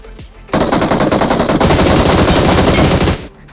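Sustained automatic gunfire from a BGMI (PUBG Mobile) match: a loud, dense burst of rapid shots starting abruptly and running for about three seconds before cutting off, with quieter shots around it.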